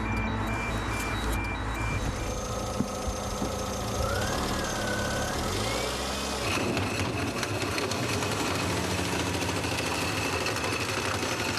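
A car engine runs continuously at close range, a steady mechanical drone with a knocking quality that shifts slightly partway through.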